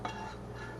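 Sauce being stirred into freshly made pasta in a pot, a soft, continuous wet mixing and scraping, close and fairly quiet with no talking.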